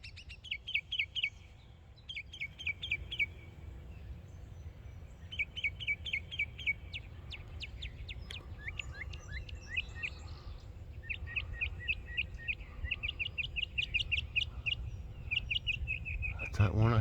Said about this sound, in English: There's that bird.